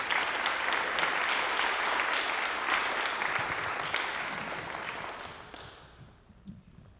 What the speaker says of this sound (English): they can stand up and be applauded